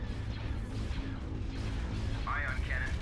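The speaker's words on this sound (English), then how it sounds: "Ion cannon firing." An ion cannon fires in a Star Wars space strategy game, a low rumbling blast under a continuous heavy drone with a brief electronic warble near the end.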